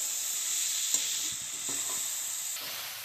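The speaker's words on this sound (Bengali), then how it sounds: "এবার আমি মাছের যে কাঁটাগুলো আছে ঘুরে ভাই একটু নাড়াচাড়া করে নেবো" Fish bones and vegetables stirred in a frying pan: a steady close sizzle of oil with a few soft scraping strokes of a spatula running through it.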